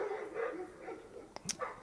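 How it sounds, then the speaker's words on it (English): Several dogs bark in brief yips and a sharp bark toward the end of the clip, somewhat distant and fairly faint over steady background noise. "Hear all those dogs barking when I said that?"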